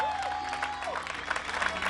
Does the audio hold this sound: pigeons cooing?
no